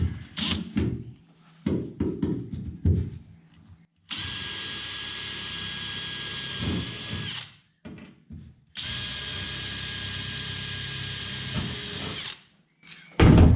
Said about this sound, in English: Drill these for pot rivets.